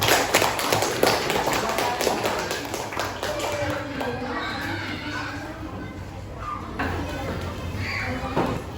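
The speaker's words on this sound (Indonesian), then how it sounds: "tepuk tangan untuk kelompok 3" A classroom of students gives a round of applause for a presenting group, brisk clapping loudest at the start and tapering, with children's voices and shuffling mixed in.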